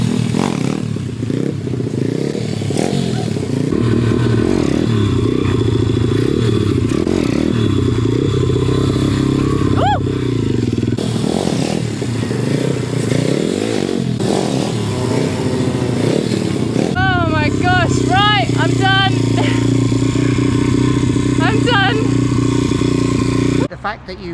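A motorcycle engine revs and holds steady throttle during footbrake wheelie practice, loud and close for the whole stretch, with clattering mechanical noise and people talking over it.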